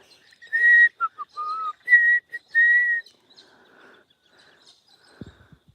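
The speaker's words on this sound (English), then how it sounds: "That's a butcher bird whistle." Clear, mellow whistles from a butcherbird, several rich fluting notes in quick phrases for about three seconds, then near silence with a faint low knock at the end.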